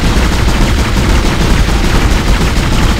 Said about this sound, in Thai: ยิงแม่งเลยครับระยะไกล